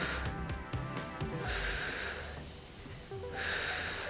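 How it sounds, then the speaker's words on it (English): Audible breathing of someone during a seated cardio marching workout for seniors and beginners, a few breathy exhales and inhales close up over faint background music. "Exhale, inhale."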